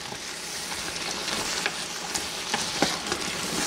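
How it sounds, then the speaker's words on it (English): Flour is stirred into vegetables for a hearty beef stew in a pot, giving a steady hiss of frying with scraping spoon strokes and a few louder clacks, without any talking. "we're going to stir it real good until we can't see any more flour"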